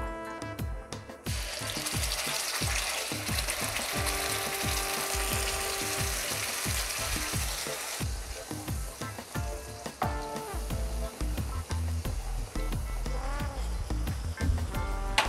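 A sweet apple mixture hits a hot pan and sizzles loudly and continuously, with stirring scrapes and bubbling throughout. The texture shifts partway through as the cooking settles, and no one speaks.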